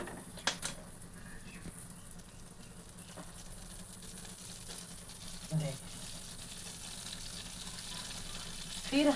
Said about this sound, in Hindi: कढ़ाई भी गर्म हो रखे हैं और हम मक्खन भी डाल रहे हैं।